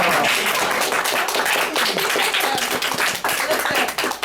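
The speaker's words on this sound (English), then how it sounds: "Big round of applause." A crowd claps continuously, a dense and lively round of applause that stays loud from start to finish.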